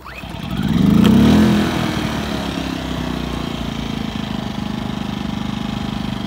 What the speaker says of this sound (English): let's go ahead and fire this uh Generator up